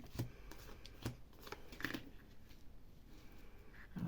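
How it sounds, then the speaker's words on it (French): Cards are drawn from a deck in a series of quick, crisp riffling and slapping sounds, close and fairly quiet, spread over a few seconds. "je tire mes cartes avant"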